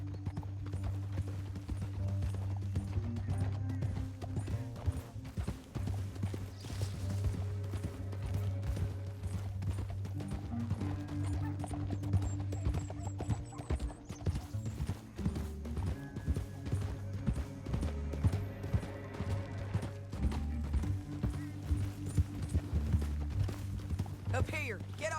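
Horses gallop in the Western video game Red Dead Redemption 2, a continuous rapid clatter of hooves under a low tonal backdrop, with voices speaking over it at times.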